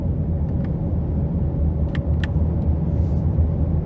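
A 2023 Hyundai Sonata Hybrid, 2.0 non-turbo four-cylinder, cruising in eco mode, heard from inside as a steady low road rumble and cabin hum with a few faint clicks.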